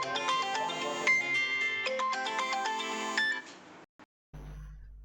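A phone ringtone plays loud and close, a bright melodic sequence of repeating electronic tones for over three seconds before stopping, followed by brief silence and a low hum.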